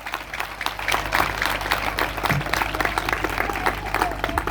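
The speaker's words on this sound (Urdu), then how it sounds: "فاتح اور زندہ یسوع کے لیے زوردار تالیاں بجائے." A congregation claps loudly and steadily at an Urdu-Hindi church sermon, with dense applause filling the room for the whole stretch and a faint hum underneath.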